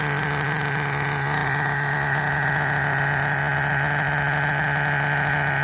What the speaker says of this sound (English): that startup was the most important startup of this engine's life